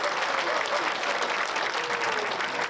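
An audience in Ulaanbaatar, Mongolia, claps warmly for dancers, a full, steady burst of applause from many hands, close and continuous, with faint voices mixed into the crowd.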